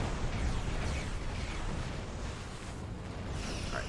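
Torpedo launches and impacts against a Miranda-class starship in Star Trek Online, heard as a continuous loud, rumbling explosive wash with burst-like swells and no voices.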